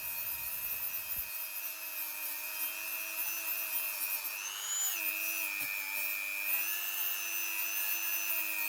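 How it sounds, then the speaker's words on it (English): A Dremel rotary tool with small sanding discs polishes welds between the cast fins of a Kawasaki Z1 motorcycle barrel, giving a steady high-pitched whine that dips slightly in pitch under load and then recovers, heard alone. "I now use little sanding discs on the Dremel to polish the welds, getting in between the fins the best I can."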